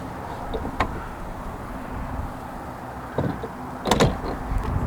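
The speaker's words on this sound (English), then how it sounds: "This button right here opens up the glass hatch, so when we press it, it opens up back here." The motorised glass hatch of a McLaren MP4-12C opens at the press of a button, giving a soft whirr over a steady background hum, then a couple of sharp clicks and a thump near the end.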